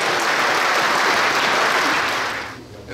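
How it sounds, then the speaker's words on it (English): A crowd at the Luremasters fishing event gives a big applause for the third-place team, a loud, dense roar of clapping that fades out near the end. "Give them a big applause."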